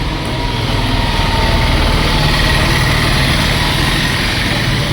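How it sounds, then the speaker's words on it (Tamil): A Royal Enfield Bullet motorcycle engine on a road near Srinagar, a loud, steady, close thumping drone that holds for the whole stretch with no talk. "ஏய் புல்லட் வண்டி வரான்."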